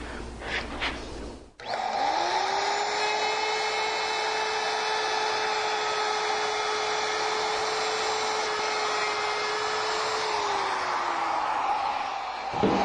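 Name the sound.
router with bearing bit cutting wood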